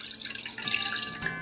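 Water, three-quarters of a cup, is poured into a saucepan for a dessert topping, making a close splashing trickle with no talk.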